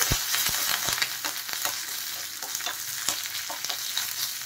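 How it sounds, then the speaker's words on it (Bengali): Mustard seeds and curry leaves fry in a little oil with a constant close sizzle, dotted with sharp pops and stirring taps throughout. "দেখেন সর্ষে আর কারি পাতা ভাজা ভাজা হয়ে গেছে।"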